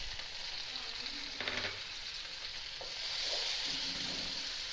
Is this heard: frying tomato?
yes